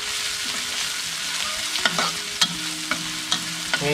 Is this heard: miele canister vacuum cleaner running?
no